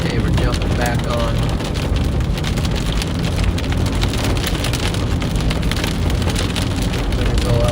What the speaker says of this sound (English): There's a little bit of hail.